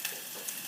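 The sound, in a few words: chopped ginger and red onion frying in hot pan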